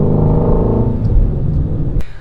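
A 2018 Ford Mustang Shelby GT350's deep, rumbling engine idles loudly nearby, its low throb easing slightly before a sharp click at the end.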